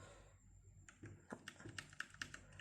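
Keys tapped on a Tsunami MK-68 budget mechanical RGB keyboard, a run of quick, close, crisp clicks in an irregular rhythm after a quiet pause, with no voice.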